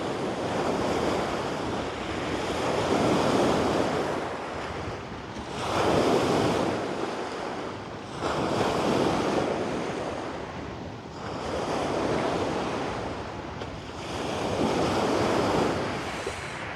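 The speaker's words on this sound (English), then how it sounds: "I'm waiting for the waves to splash over top of the rocks right like that" Ocean waves surge in and wash over beach rocks at sunrise, arriving as five broad swells in a slow, steady rhythm with wind buffeting the microphone between crests; no voices.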